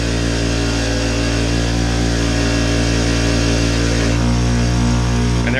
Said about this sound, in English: after the injector is decapped, I always take it to the wire wheel